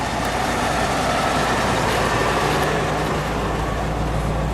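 A 1967 Buick Riviera, black, running on the road: a steady, broadband engine and road drone fills the whole stretch at an even level, with no talk over it.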